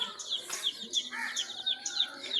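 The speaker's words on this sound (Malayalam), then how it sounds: "ചെറിയ കുഞ്ഞു കോഴിക്കുട്ടികളാട്ടോ, 2 ആഴ്ച പ്രായമുള്ള കോഴിക്കുട്ടികൾ" Two-week-old chicks chirp in a quick, continuous run of high, thin peeps, close and fairly soft.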